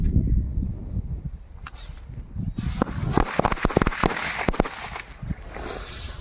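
A handheld 28 Deluxe firecracker bursting, a rapid string of sharp cracks and pops that grow denser toward the middle and then thin out, loud and close.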